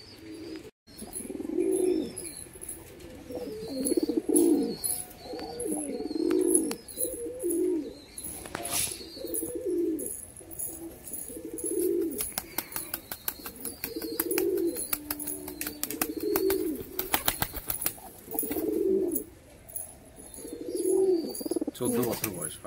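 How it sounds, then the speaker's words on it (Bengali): Pigeons in a loft coo again and again in low, rolling bursts, close and steady throughout, with sharp clicks and some human voices mixed in. "এই যে ব্যাক ক্যামেরায় পায়রাগুলো দেখতে পাচ্ছেন"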